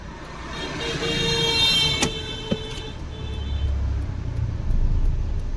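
A car engine hums and rises as the car pulls away on an uphill start during a driving lesson, a steady close drone with a couple of short knocks and a low swell near the end.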